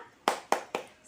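Three sharp, evenly spaced claps from a group of children at school, crisp and close, a quick rhythmic chant-style clap with no talking over it.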